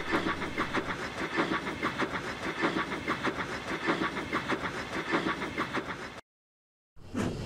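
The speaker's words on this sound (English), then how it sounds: "Then Gordon thundered through the station. His coaches clattered behind him and the express disappeared." An express steam engine with coaches thunders through a station, a steady loud rumble with rhythmic clattering of wheels over rail joints, broken by a short silent gap near the end.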